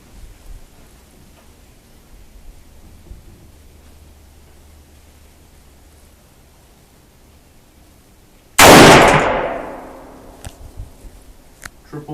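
A single sharp, loud gunshot at an outdoor gun range, fired at a steel target, cracks out of near silence and rolls off in a long, fading echo.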